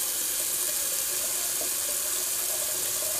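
Water running from a tap into a sink during a shaving rinse, a steady full hiss of flowing water, close and continuous with no talking.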